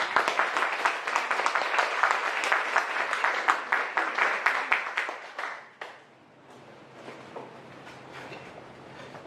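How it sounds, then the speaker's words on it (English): Dense applause from an audience after a Q&A talk about the North Korean aid group LiNK, steady and loud for about six seconds before dying away to a few scattered claps and quiet room noise. "Can we please give her a round of applause?"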